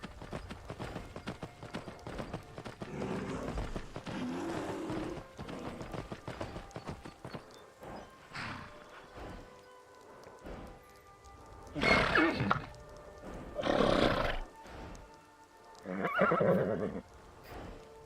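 Hooves clip-clop at a gallop while a horse neighs loudly several times, the whinnies rising above the rhythmic hoofbeats in the video game Skyrim VR.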